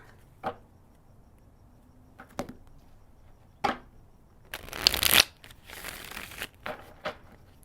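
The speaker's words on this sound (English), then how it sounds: "Shuffle." Tarot cards are handled with a few sharp taps, then riffled in a loud, close shuffle, followed by softer shuffling sounds.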